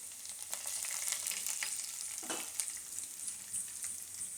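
Curry leaves crackle and sizzle in hot oil with a bright, steady spatter and a few sharper pops, close and continuous, with no voices.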